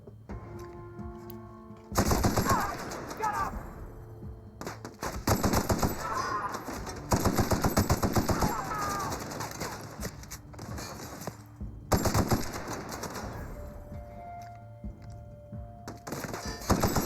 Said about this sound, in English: the assault rifle's not bad